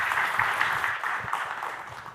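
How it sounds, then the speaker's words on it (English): Audience applause for startup presenters at a pitch event, a steady mid-level patter of many hands that thins slightly toward the end, with no talk over it. "give a warm applause to Joe and DeAndre."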